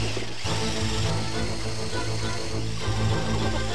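A power drill spins a drink in a bucket of ice, salt and water, giving a loud, steady whirring grind that runs on without pause.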